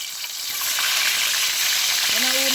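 Galunggong (round scad) fish frying in a pan at home, giving a steady, close broadband sizzle and hiss that swells after the first half second and holds level to the end.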